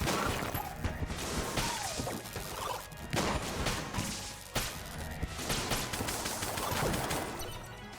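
Near-constant gunfire in the roguelike game Enter the Gungeon, many bursts of shots ricocheting around a room, busy and loud with no talking.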